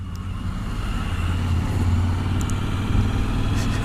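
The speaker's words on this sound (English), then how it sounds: "as soon as you roll throttle, you're slingshotted away" A Suzuki V-Strom 1000 motorcycle engine rumbles with a low, throaty growl that builds steadily under acceleration, steady and close without any voices.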